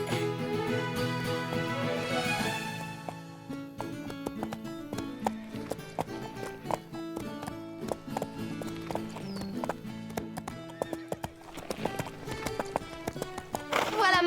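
Cartoon horse hooves clip-clop steadily at a riding pace under continuous music, with a whinny and some voices mixed in throughout.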